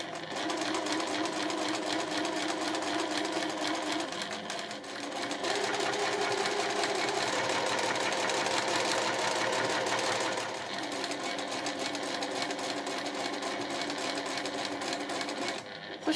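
A sewing machine stitches a drawstring fabric pouch, running steadily and close with a dense mechanical whir, briefly pausing and shifting speed for backstitching at the drawstring opening and turning gap.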